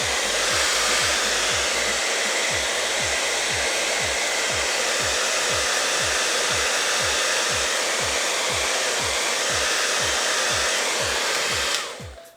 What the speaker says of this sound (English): And so you just do that with the hair dryer.